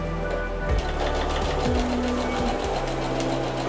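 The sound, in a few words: sewing machine stitching along the marked line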